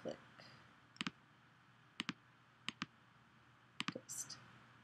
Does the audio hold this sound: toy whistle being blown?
no